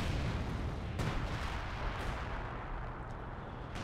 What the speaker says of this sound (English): Artillery coming down at major key points from the Sextons, holding back the German infantry from advancing.